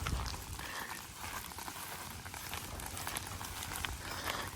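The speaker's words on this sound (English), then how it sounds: "You can hear the grass popping." Dry brown grass crackling and popping as it burns in an outdoor fire, a steady dense crackle with scattered sharper pops running throughout, close and fairly loud, with no talking.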